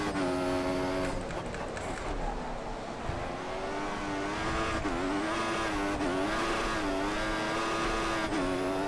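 Formula One race car from the F1 2014 video game, engine at full throttle: a loud, sustained high-pitched engine whine that climbs and dips with gear changes and cornering, with some tire noise, no talk.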